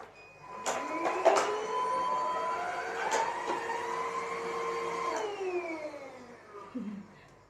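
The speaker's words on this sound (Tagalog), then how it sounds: "kasi mag-continue na ako mag-vacuum guys" A rechargeable cordless vacuum cleaner runs with a steady motor whine and tonal hum, interrupted by clicks and bumps, before winding down near the end.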